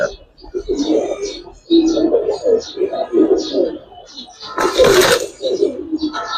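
Giribaz high-flyer pigeons coo close by in a repeated series of soft, throaty, rolling calls, with one sharp burst of noise partway through.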